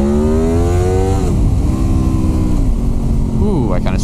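A Honda VFR800 motorcycle with a dyno-tuned VTEC engine accelerates hard in first gear, its loud rising engine note climbing steadily, dropping with a shift, then rising again under wind noise.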